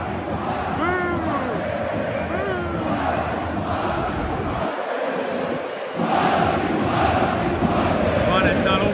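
Football fans roar and chant in a stadium during a heated Romanian derby, a dense, loud crowd noise with rising shouted chants, a brief dip in the middle, then a surge of cheering.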